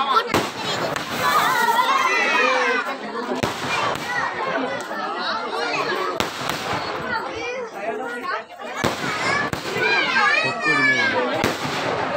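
Firecrackers and fireworks crack and burst in sharp, loud reports at irregular intervals, with a crowd and children chattering and shouting throughout.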